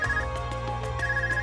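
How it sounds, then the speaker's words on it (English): An Arcus device rings in the Trails of Cold Steel video game on PS4, a steady electronic ringtone pulsing in regular repeated bursts, loud and clear with no talking over it. "Is that your Arcus ring?"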